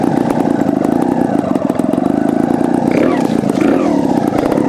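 Beta TR34 trials motorcycle, fitted with Tech Kashima forks, ridden in second gear with a loud, close, throbbing engine note that rises slightly partway through.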